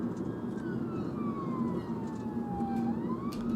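A UK ambulance siren wails steadily through traffic, its pitch sweeping slowly down and then back up, loud and continuous over the low rumble of road noise.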